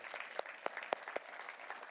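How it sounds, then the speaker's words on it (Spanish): Scattered applause from a church congregation, faint and somewhat distant, with a handful of sharper individual claps standing out over a soft, steady patter. "yo quiero que usted se dé un aplauso fuerte"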